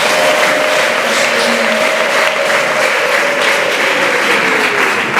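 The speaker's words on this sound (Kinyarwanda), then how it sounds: "twongere tuyishimire tuyikomere amashyi" Congregation applause at an ADEPR church service, a steady wash of clapping sustained throughout at full loudness, with a faint sung or hummed tone running underneath.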